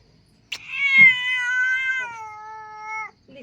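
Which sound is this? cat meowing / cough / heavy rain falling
cat meowing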